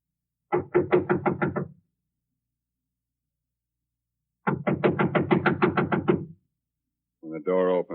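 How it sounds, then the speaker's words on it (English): Sharp series of knocks on a wooden door in an old-time police radio drama, two bursts of rapid raps with a pause between, close and loud, followed by a brief voice. "When the door opens, Rolf, let me do the talking"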